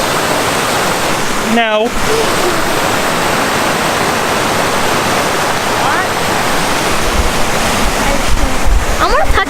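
A waterfall at Cascade Park in New Castle, Pennsylvania roars loud and constant up close, a broad rushing wash with brief voices speaking over it.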